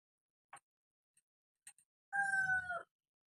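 A rooster crows in the morning, a single brief, faint call from a distance after a few scattered soft clicks in an otherwise quiet room.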